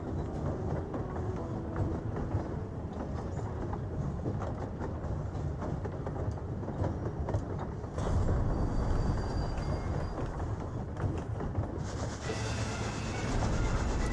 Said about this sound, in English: That's our Ghost Train.